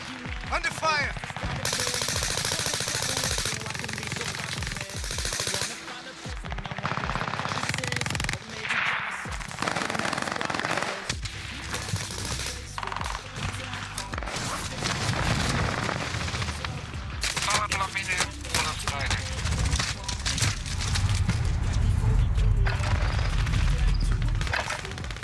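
Rapid gunfire bursts from Call of Duty Warzone, with machine-gun rattles, single shots and booming impacts that repeat through a dense, loud game soundscape.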